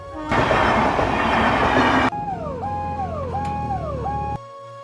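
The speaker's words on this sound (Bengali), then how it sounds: "একটু গেটের সামনে দাঁড়িয়ে গেলাম, আমাদের ট্রেন আসছিল।" A train rolls past a level crossing gate, a loud close rush of wheels and carriages for a couple of seconds, then a bell or warning tone sounds repeatedly in falling pulses before cutting off.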